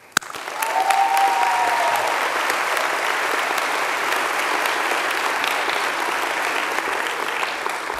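A school audience at a teacher-of-the-year ceremony breaks into loud, sustained applause that swells within the first second and stays thick and even, with a brief whistle-like tone near the start.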